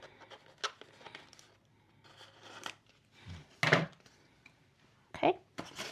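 Scissors cut fabric for an embroidered Lands' End tote bag, giving a few irregular close crisp snips and scrapes separated by quiet pauses, with the sharpest cuts near the middle and end.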